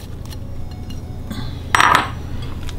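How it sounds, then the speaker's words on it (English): Chicken filling with spinach is mixed in a bowl, giving a brief burst of clinking and scraping midway over a quiet, steady background. "And just mix all the spinach."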